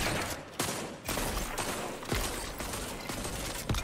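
Video game gunfire crackles in several sharp bursts and single shots spread over a few seconds, fairly close, against a noisy background with no talk.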